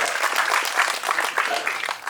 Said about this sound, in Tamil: நல்லா பலத்த கரகோஷம் கொடுங்க